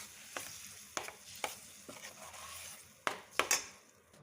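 A spoon stirs and scrapes through black urad dal batter thickening in a pan over low heat, with a few distinct clinks and scrapes spaced out, two louder near the end, over a faint background hiss.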